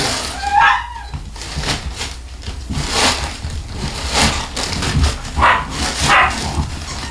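Several dogs bark repeatedly in a kennel, loud and close, their sharp, echoing barks coming in irregular bursts with a few higher yips mixed in.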